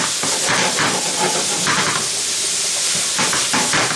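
Shrimp and broccoli sautéing in a hot pan, a steady loud sizzle and hiss with faint clinks, continuous and close throughout.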